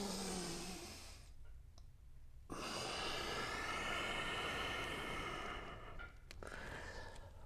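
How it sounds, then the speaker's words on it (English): Slow, deep breaths drawn in and pushed out during a joint-prep exercise: quiet, close, breathy airflow with a short pause between breaths and no talking. "Big breath and exhale."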